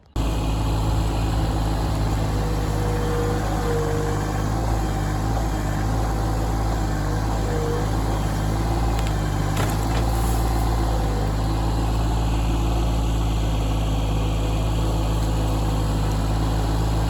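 A John Deere 2210 compact tractor runs steadily nearby, its engine holding an even low drone and hum throughout with a faint clank partway through and no voices.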